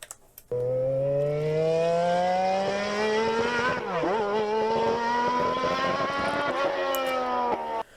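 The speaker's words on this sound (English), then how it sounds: "in the 12-cylinder is obviously you don't just have that main engine note, which is the deep one" A 12-cylinder car engine holds a steady, rich note with a deep fundamental and layered harmonics, loud and close, rising gradually with a brief dip midway before settling again, heard alone.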